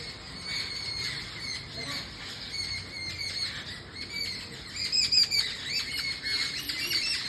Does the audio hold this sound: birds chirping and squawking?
yes